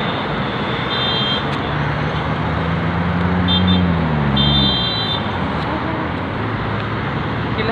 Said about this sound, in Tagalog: Daming sasakyan sa baba, oh.